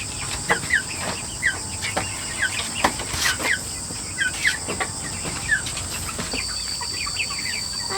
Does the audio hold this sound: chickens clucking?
yes